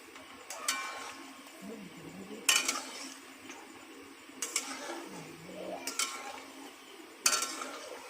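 A utensil stirs and turns sweets frying in a pan with a few sharp metallic knocks against the pan, short scraping strokes and a faint sizzle beneath, quiet and close, without clear talking.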